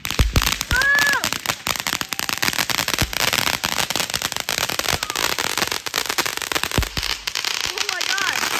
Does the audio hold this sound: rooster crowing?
no